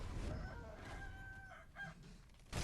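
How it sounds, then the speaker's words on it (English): Chickens clucking and a rooster crowing in the video game Sekiro: Shadows Die Twice, steady fowl calls near and fairly loud over game ambience with a sharp burst at the end. "This fucking chicken?"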